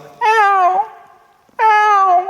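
A human voice imitates a cat's meow in two drawn-out, harmonic calls separated by a short pause, loud and close with no other talk, standing in for a cat crying outside a monastery during Mass.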